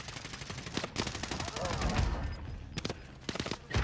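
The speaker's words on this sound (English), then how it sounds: "Getting shot from my right," Rapid gunfire rattles in Call of Duty Warzone, with repeated bursts of automatic shots, a lull of rumbling and a voice in the middle, then more quick bursts at the end.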